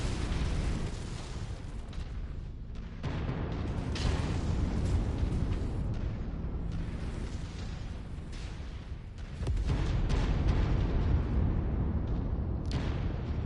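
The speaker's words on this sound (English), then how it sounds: "These are anti-orbital guns." Anti-orbital guns firing in a video game, a continuous roar of heavy booming blasts that swells louder near the middle and end, with no talk over it.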